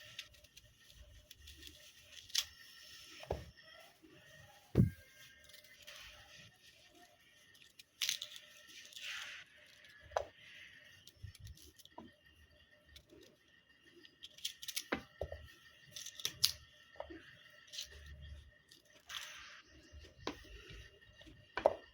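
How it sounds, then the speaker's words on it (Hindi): A knife slices through a ripe peach, chopping it into small pieces with scattered soft cuts, crunches and taps against a board, close and fairly quiet, no talking. "सबसे पहले हम एक आड़ू लेंगे और उसको इस तरह काट लेंगे।"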